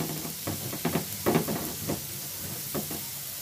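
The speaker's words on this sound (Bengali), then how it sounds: "হালকাভাবে পেঁয়াজটা আমি ভেজে নিব" Chopped onion fries lightly in a little oil in a pan, a soft continuous sizzle with intermittent scraping stir strokes from a utensil, close and fairly quiet, with no talking.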